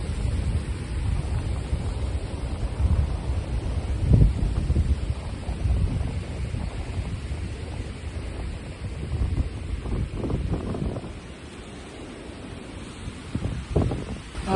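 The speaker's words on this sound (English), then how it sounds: "First victim, unfortunately, of this wind" Strong storm wind blasts across a Scottish croft, roaring and buffeting the microphone continuously with gusty swells, loud and close, with no voices.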